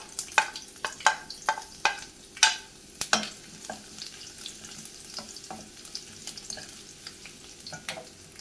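Finely chopped garlic, four cloves, hits hot oil with popped mustard seeds for a soya dish, giving a soft continuous sizzle broken by a series of sharp spoon-on-pan clatters as it is stirred, loud at first then gradually lighter.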